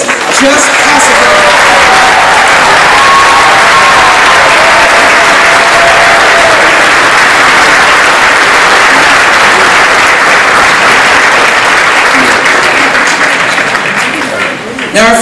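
Parents, friends and teachers in a school hall at a spring show give a long, loud round of applause, dense clapping with a few cheers that carries on for about fifteen seconds.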